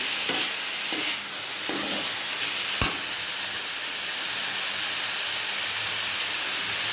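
Chopped green chillies sizzle and hiss steadily in a hot pan, with a few scraping stirs and a sharp clink of a utensil partway through, loud and close with no talk.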